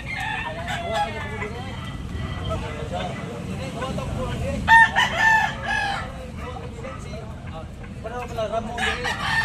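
Several fighting roosters crow repeatedly at a Sunday gamecock auction in Tabunok, some near and some farther off, amid clucking and a busy crowd murmur with people talking.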